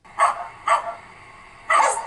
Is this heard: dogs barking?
yes